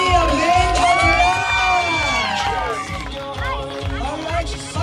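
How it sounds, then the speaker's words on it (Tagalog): Wedding guests cheer and whoop loudly for the couple, with a crowd clamour and rhythmic thumping underneath. Voices shout and call out over the din. "Palakpak para sa ating couple, Mr. Dominic and Mrs."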